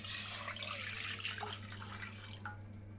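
Water, about 300 millilitres, pours into a container, giving a short, close splashing trickle that runs steadily for a few seconds with no talk.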